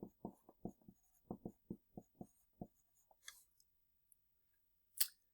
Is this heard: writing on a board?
yes